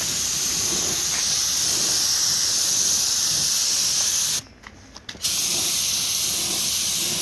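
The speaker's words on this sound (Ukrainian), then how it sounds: "Зараз все покрасю і буде чітко." Continuous loud hiss of a spray paint can coating the cutter housing of a Zubr walk-behind tiller, steady for several seconds, then a short pause with a few sputtering bursts before the spray resumes.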